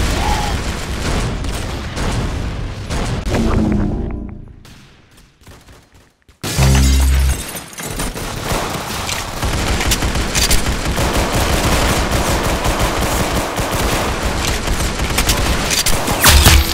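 Loud, rapid gunfire in a first-person shooter game, with bursts of automatic fire and booming shots that fade briefly, then resume as dense, continuous shooting with sharp impacts.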